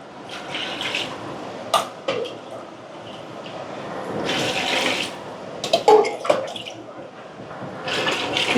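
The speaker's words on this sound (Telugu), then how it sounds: "ఇదే గ్లాస్తో మనం కొలతగా ఒక ఐదు గ్లాసుల వాటర్ రైస్ ఉడకడం కోసం వేసుకున్నాం" Water being poured from a glass into a cooking pot for boiling rice, measured out as five glassfuls for a mutton dum biryani, with splashing gushes that come in separate bursts and some kitchen clatter.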